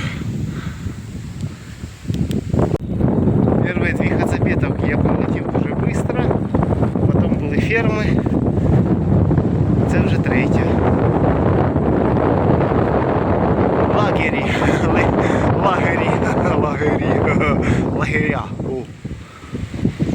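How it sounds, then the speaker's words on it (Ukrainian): Strong wind roars and buffets against the microphone almost continuously in Reims, France, while a person talks underneath the gusty rumble. "вітер мені в харі так дме, що капець просто"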